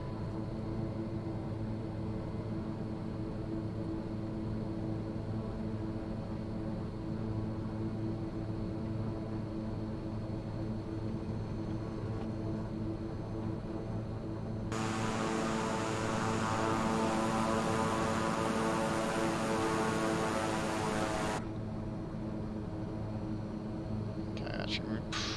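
A propeller aircraft in flight in Microsoft Flight Simulator 2020 gives a steady droning hum with a constant engine tone, and a burst of hissing wind noise in the middle.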